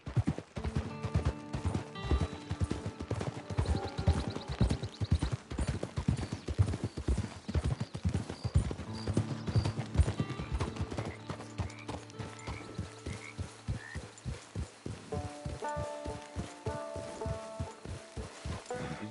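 Horses' hooves clip-clop in a steady, close rhythm on hard ground as riders approach a camp, with occasional faint whinnies and creaks running under the beat.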